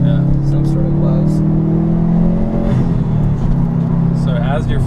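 2017 Subaru STI engine at full throttle on a track, a loud sustained roar with rising engine tones heard from inside the car, with people talking over it.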